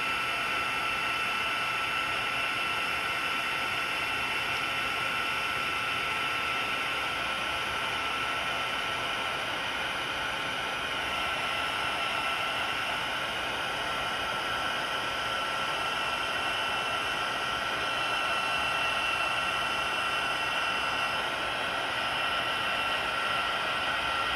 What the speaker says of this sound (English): it's time for our heat tool again